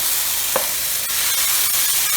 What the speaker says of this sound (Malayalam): അത് ആവശ്യത്തിന് കല്ലിലോട്ട് ഒഴിച്ചു കൊടുക്കുക.